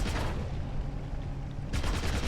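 A stun gun's alternate fire in the video game Deep Black lets off rapid, crackling bursts of shots. A dense burst comes first, then a quieter gap, then another burst near the end.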